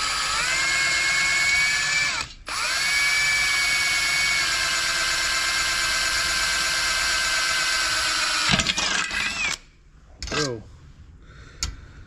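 A power drill bores into metal on a race car, whining loudly and steadily for several seconds with a brief stop, then cutting out into a few short bursts and quieter clatter.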